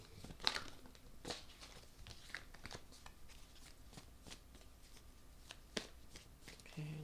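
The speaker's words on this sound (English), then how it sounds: "I'm going to pull 3 cards" Tarot cards being shuffled and pulled, with soft repeated riffling and flicking close by over a quiet room, a few sharper snaps standing out.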